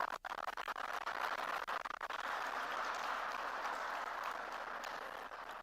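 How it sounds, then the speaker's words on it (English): An audience claps for students at a LinkedIn Experience Zone event, with dense, steady applause filling the whole stretch after a brief gap near the start. "Let me hear a huge round of applause for all our students here."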